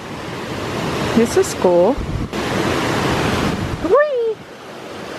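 Waterfall pouring in a steady broadband rush, with brief voices speaking and exclaiming over the constant roar of water.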